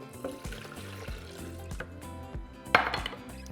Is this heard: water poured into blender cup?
yes